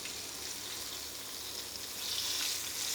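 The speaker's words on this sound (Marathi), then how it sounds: "बारीक गॅसवरच आपल्याला ह्याला फ्राय करून घ्यायचे" Rawas fish fillets frying in oil over a low gas flame, giving a steady, close hiss and sizzle that swells slightly toward the end, with no talk.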